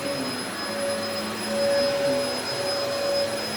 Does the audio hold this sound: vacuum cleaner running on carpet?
yes